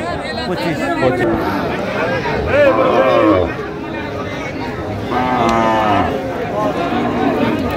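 Cattle lowing at a Dhaka market where cows are being bought and sold, two long, loud moos rising over a constant murmur of traders' chatter and nearby voices.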